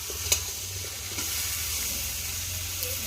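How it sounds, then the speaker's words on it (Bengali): A pan fries steadily with a continuous close sizzle and hiss, marked by a sharp clink near the start and a few faint utensil taps. "এখন আমি একটু ঢাকা দিয়ে ভালো করে একটু ভেজে নেব।"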